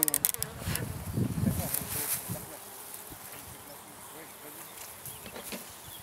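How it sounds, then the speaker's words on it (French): Honey bees leaving a beehive make a faint steady buzzing, with a louder burst of nearby activity early on and a voice speaking over it. "j'étais en train de filmer les abeilles qui étaient en train de sortir de la ruche"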